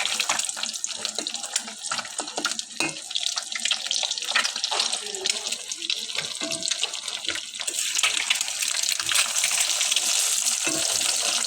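Frying for an egg posto in a pan hisses and crackles steadily and close, with an occasional scrape or clink, growing slightly brighter near the end.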